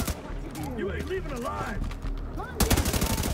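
Gunfire in the video game The Division 2: a rapid burst of loud shots near the end, following a stretch of varied electronic tones and effects.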